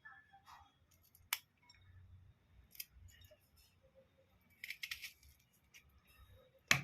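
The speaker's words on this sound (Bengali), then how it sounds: "এইভাবে দুদিক কেটে নিয়ে একটুখানি মাঝখানটা ফালা করে দেবো" A knife slits fresh bitter gourds (uchhe) lengthwise in a home kitchen, giving a few sharp, close cuts and clicks scattered among quiet handling noises.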